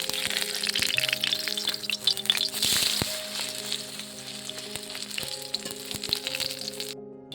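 Pumpkin flower fritters frying in mustard oil, with a steady close crackle and sizzle and sharp popping spits, under a constant background hum.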